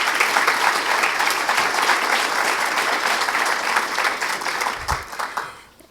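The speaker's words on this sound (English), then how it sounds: "if we could give Senator Carroll another round of applause" An audience at a community college grand opening applauds for Senator Frank Carroll with dense, lively clapping that holds steady for several seconds, then thins to a few scattered claps and fades out.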